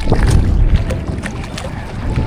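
Strong gusting wind buffets the microphone while fishing from a small boat, a heavy low rumble with light water splashes and faint voices in the background.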